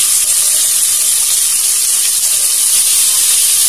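Onion and tomato sauté in a hot pan, giving a steady, bright hiss that holds evenly throughout with no talking.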